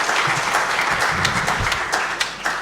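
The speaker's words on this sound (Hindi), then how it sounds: "तालियां बजाइए एक बार।" An audience at a Hindi kavi sammelan poetry recital breaks into a short, fairly loud burst of applause, with dense clapping throughout and a few sharper claps rising near the end.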